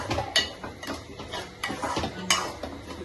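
Chicken khichdi is stirred in a pot over low heat, a spoon scraping and knocking against the sides in several close, uneven strokes over a faint sizzle.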